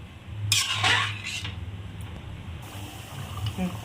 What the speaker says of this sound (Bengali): আর একটু জল দিই।